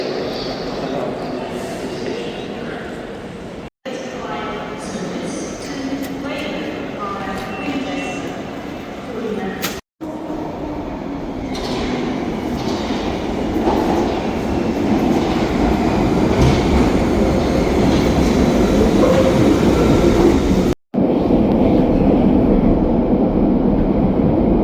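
A Great British Railways train runs with a steady, loud rolling rumble and rhythmic track clatter from on board, broken by a few brief cuts, with some talk underneath.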